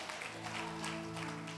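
A church congregation claps along during worship, with sharp rhythmic claps over a sustained musical tone for a brief moment.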